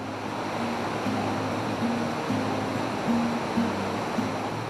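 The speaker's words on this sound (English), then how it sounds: "Is that the sound of the river I can hear?" Steady rushing water fills the scene, a constant broadband roar of a river in Calaveras County, California, with a low hum underneath.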